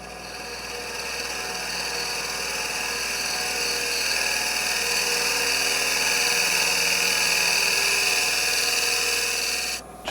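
A spindle gouge cuts a lidded wooden box on a lathe, giving a steady, loud and continuous whirring scrape with a motor hum underneath. It holds evenly for about ten seconds, then stops briefly at the end.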